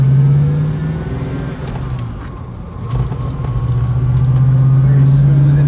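A 1968 Pontiac Firebird with a 3-speed drives along, its engine droning steadily from inside the cabin, dipping briefly then rising again as it pulls, with someone talking over it.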